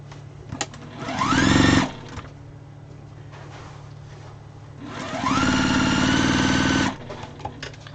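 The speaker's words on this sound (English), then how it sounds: "let's sew some little guys on here" Two bursts of a sewing machine stitching fabric scraps into a strip, each a fast, steady mechanical whir lasting about one to one and a half seconds, close up, separated by quiet handling noise.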